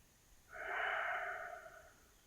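A single long, soft breath lasting about a second and a half rises and fades during a seated qigong twist, close and quiet with nothing else around it.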